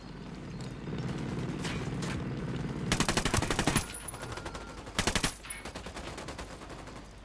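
Gunfire in the video game Ghost Recon Wildlands comes as two rapid automatic bursts of sharp shots, the first longer than the second, over a low background hum.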